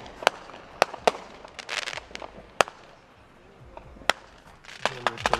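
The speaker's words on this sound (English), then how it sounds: "There are like so many fireworks here, it's pretty crazy." Fireworks bursting outdoors over a parking lot by shops, a string of sharp separate cracks and pops with crackling fizz between them, some near and loud, others softer and farther off.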